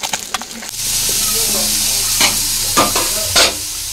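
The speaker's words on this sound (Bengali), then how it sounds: "তো এখানে দেখুন ফলুই মাছগুলো ভেজে নিচ্ছি।" Foli fish fry in hot oil in a pan with a loud, steady sizzle throughout, broken by a few scraping stirs and spatters, close and with no talking.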